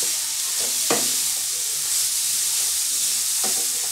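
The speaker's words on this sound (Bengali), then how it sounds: "এবার আমি গ্রেটেড গাজরটা আমি দিয়ে দেবো।" Grated carrot frying in a pan for carrot halwa, a continuous close sizzle with a few brief scraping stirs of the spoon breaking through at intervals.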